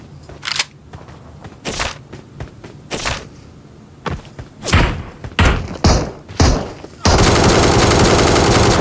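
Gunfire in PUBG Mobile on the Sanhok map: loud separate shots and short bursts ring out at irregular intervals, then give way to a sustained loud roar of noise at the end.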